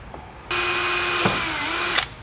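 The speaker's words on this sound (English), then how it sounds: "we're going to take the 11mm drill bit, one hole," Power drill boring an 11mm hole on a Hyundai i20N during a splitter kit fit: one steady, loud high whine lasting about one and a half seconds, with a slight dip in pitch midway before cutting off.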